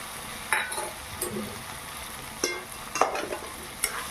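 Boiled potatoes and bitter gourd stirred with green chilli and poppy seed paste in a pan, a low sizzle under a few scattered spoon scrapes and light clinks against the metal.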